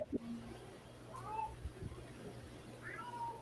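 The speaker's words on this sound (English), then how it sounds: "That is not a happy sounding cat." An unhappy cat gives drawn-out, complaining meows, two or three wavering cries spread across a few seconds, moderately close against a low room hum.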